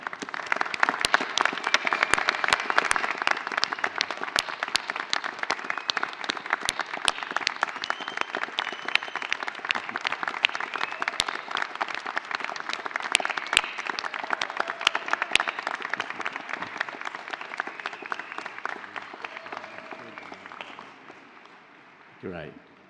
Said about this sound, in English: join me in a huge round of applause to say thank you